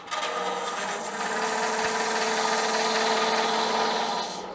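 A half-inch detail gouge with a long-bevel fingernail grind cutting a wooden pizza cutter handle on a spinning lathe, a loud continuous rasping scrape lasting about four seconds, with the lathe's hum beneath.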